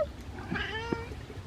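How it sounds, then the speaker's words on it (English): A cat gives a short, close meow with a rising then falling tone, in an otherwise quiet room. "Meow. Meow. Meow. Meow."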